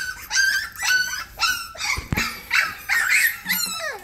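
Several newborn puppies whimper and cry for their mother in a litter of seven, giving repeated high, wavering squeals in short bursts close by, with a brief soft knock partway through.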